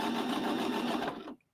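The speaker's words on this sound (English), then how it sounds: "So I'm gonna take these two and put them together, and sew them, put it right up under there, and keep right on sewing." A sewing machine chain-sews quilt block pieces with a steady close hum that stops abruptly after about a second and a half.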